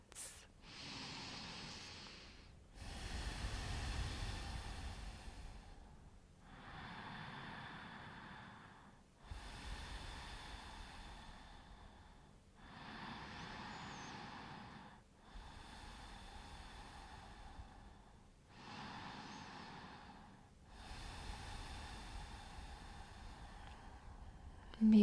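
Three slow, deep breaths during a gentle morning yoga practice, each a long airy inhale or exhale with short pauses between, about seven breath sounds in all, close and soft, with no talking.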